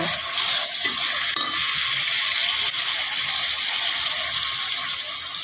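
Cut jackfruit drops into hot oil with fried spice masala and hisses loudly, a continuous bright sizzle with a few scraping knocks of a stirring spoon early on.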